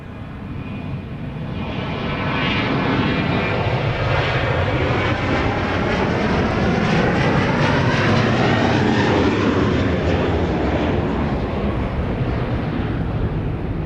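A Boeing 737-800 jet airliner on the runway at Dallas Love Field at night, its engines swelling into a loud, sustained roar with a shifting whine, heard from a distance and steady for most of the span.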